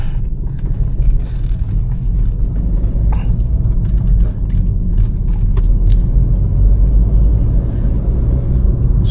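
Low steady engine rumble and road noise inside a Volkswagen Vento driving through a roundabout, with faint clicks and rattles over the drone and no talk.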